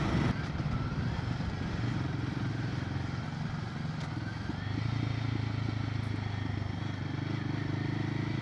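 A Royal Enfield Himalayan 450 engine drones steadily while riding, its low hum mixed with heavy wind rush throughout, with no talking.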